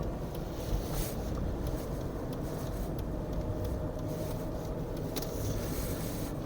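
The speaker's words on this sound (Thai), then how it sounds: "เดี๋ยวจะลองเร่งเครื่องให้ดูเลยนะ" A 2000 Mercedes-Benz W210 E240 car engine drones steadily while accelerating on a main road, with a constant rumble and road noise, the pitch holding fairly even throughout, with no voices.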